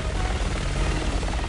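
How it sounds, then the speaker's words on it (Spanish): Helicopter in a PS4 video game, a loud, steady rotor drone with a low pulsing throb that holds for the whole moment, with no voices over it. "¡Ese helicóptero está a punto de abrir fuego!"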